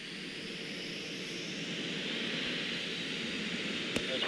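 Boom XB-1 supersonic jet aircraft taxiing on the ground, a steady broadband engine roar and hiss that holds level and builds slightly, with one short sharp click near the end.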